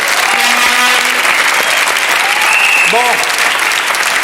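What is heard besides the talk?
audience applause for Laurent Baffy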